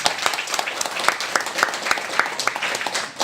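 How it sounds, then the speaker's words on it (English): A seminar audience claps together, a loud, brisk burst of many hands with a few sharper individual claps standing out, continuing steadily. "Give a clap"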